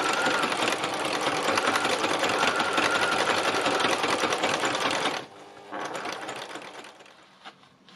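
Sewing machine stitching seed heads and stalks onto fabric, a loud steady rapid mechanical whir for about five seconds, then stopping, followed by quieter intermittent handling clicks.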